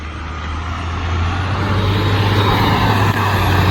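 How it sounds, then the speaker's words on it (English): A truck drives past on a road, its steady engine rumble rising slightly and holding loud and close for several seconds, with a brief dip near the end and no talking. "Last truck down the road."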